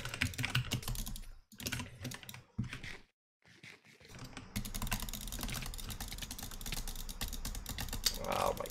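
Rapid butterfly clicking of a computer mouse during a competitive gaming session, a dense run of fast clicks running almost throughout, fairly close, with a brief quiet gap near the middle and voices talking over parts of it.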